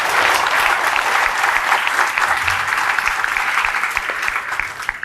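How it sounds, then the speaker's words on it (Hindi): Loud, sustained applause from a large crowd in a classroom setting, dense clapping continuing steadily before tapering slightly at the end. "जोरदार ताली"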